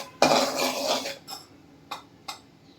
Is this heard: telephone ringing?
no